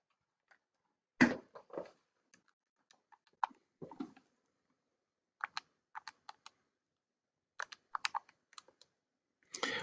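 Numbers are keyed into a calculator as a string of small, sharp, irregular clicks and taps over about ten seconds, close up and quiet with no voice.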